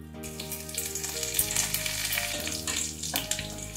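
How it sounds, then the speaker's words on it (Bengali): Whole cumin, whole garam masala, bay leaves and dried red chillies crackle and sizzle loudly in hot oil, a dense continuous frying hiss with scraping stirring and no voices. "ফোড়নটা একটু তেলে নেড়ে নিচ্ছি।"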